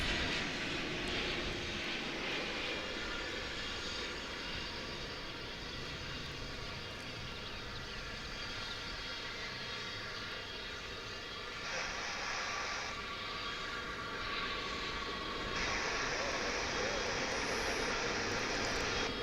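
A five-year-old Boeing 787-9 Dreamliner airliner lands after a flight from Sao Paulo, its engines roaring steadily at a distance, with reverse-thrust surges and shifts as it rolls out, no voices heard.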